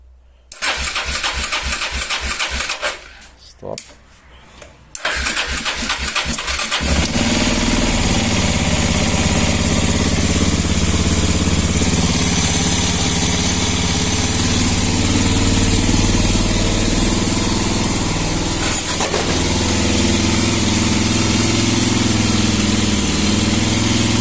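Suzuki Djebel 250 motorcycle: the starter cranks in a rapid rhythmic chatter, briefly stops, cranks again, then the single-cylinder engine catches and settles into a loud, steady close idle.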